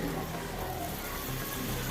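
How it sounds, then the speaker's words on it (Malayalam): Pasta cooking water poured into a hot pan of spiced vegetable macaroni masala gives a steady, close splashing gush with a faint sizzle for a couple of seconds. "വെള്ളം അടുപ്പത്ത് ഒഴിച്ച് കൊടുക്കുക പാസ്തേൻ്റെ വെള്ളം"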